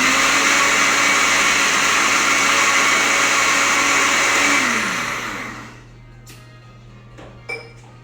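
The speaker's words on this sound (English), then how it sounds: "pour it into a blender." A kitchen blender whirs loudly and steadily while blending a strawberry drink, then winds down and stops, leaving faint clinks and taps.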